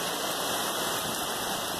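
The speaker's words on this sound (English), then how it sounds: "And it's raining out here." Steady rain falls outdoors at a junkyard yard in Porterville, a continuous soft hiss of drops with no breaks, fairly close and even in level throughout.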